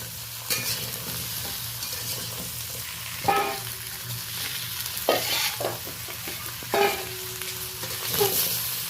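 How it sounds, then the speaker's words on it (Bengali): Mixed vegetables frying in oil in a pan are stirred, giving a steady low sizzle broken by several sharp scraping, clattering strokes of the spoon against the pan, close and fairly loud. "এই দেখুন সব সবজিগুলো আমি ভালো করে 2-4 বার নেড়ে নিলাম।"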